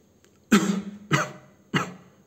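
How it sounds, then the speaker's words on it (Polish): A man seated on a bed gives three deliberate, forceful coughs spaced about half a second apart, close and loud with short gaps between. "Takie ruchy kaszlące"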